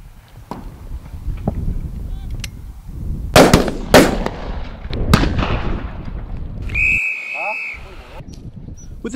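Shotgun shots at a Burton Agnes pheasant shoot, several sharp loud bangs spaced irregularly with outdoor echo, amid background voices and rustling, a brief whistle-like tone near the end.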